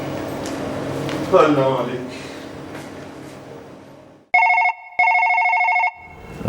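A telephone rings in two long, steady electronic bursts, loud and close, after a stretch of people talking indoors.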